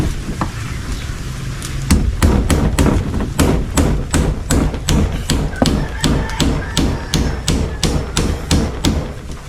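Steady hammer strikes drive a nail into wood in a small DIY woodworking project done with few tools, roughly twenty sharp, evenly spaced blows that are loud and close, with a brief lower murmur before they begin.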